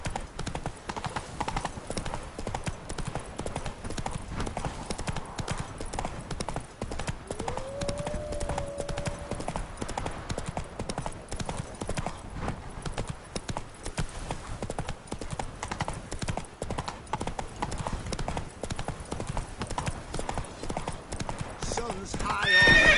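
Roach the horse clip-clops steadily through the Witcher 3 game world, hooves beating a continuous rhythm, with one drawn-out whinny partway through; no one speaks over it.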